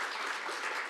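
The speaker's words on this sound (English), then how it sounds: "You can applause." Audience applause at a film screening, a steady wash of many hands clapping close and fairly loud, filling the whole short moment without any voices over it.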